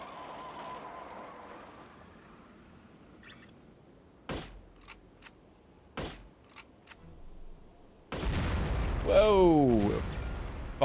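Gunshots and a car explosion in the video game No One Lives Forever: a few sharp isolated shots spaced apart, then a loud sustained blast with descending whistling tones.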